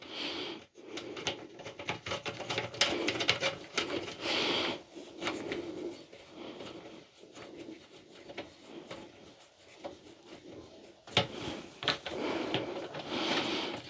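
Wooden clunks, knocks and rattles of a castor wheel being fitted onto a flat-pack laptop table, a busy run of close handling noises with a sharper knock near the end.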